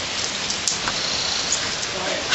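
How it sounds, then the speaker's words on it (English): Steady rain falling outdoors in cold weather, a dense continuous hiss that holds fairly even throughout with a few brief drop taps on top. "The rain died down a little, guys. It's not as rainy now."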